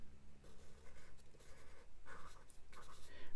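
Charcoal pencil scratching across paper while drawing eggs in medium-grade charcoal, a steady close, dry scraping with short strokes and brief pauses, loud and alone.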